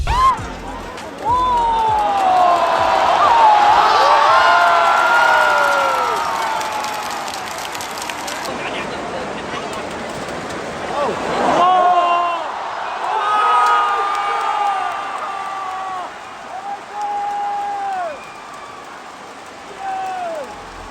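A packed football stadium of 38,000 spectators at the Hangzhou Asian Games men's semifinal erupts in sustained applause and cheering after an early goal. The roar is loud and continuous, with high whistle-like tones on top, and it later eases into a lower crowd din.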